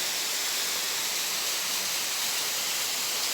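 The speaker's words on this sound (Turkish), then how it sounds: "Evet burası Çiseli Şelalesi'ni bilmiyorum ama güzel bir şelale." Çiseli Waterfall in Ordu, Turkey pours as a steady, even rush of falling water, a broad hissing wash with no pauses and no voices.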